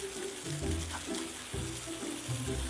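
Running water showers a toy, a close splashing and spattering with uneven bursts as the stream hits the plastic, continuous for a few seconds without talk.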